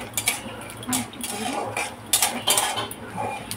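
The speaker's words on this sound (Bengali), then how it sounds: "বাদামটা একটু নেড়ে ছেড়ে ভেজে নিচ্ছি" Metal utensil scraping and clinking against a pan in quick, irregular strokes as peanuts fry, with a faint sizzling hiss underneath; close and moderately loud.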